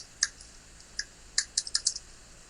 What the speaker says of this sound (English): Are you typing that in?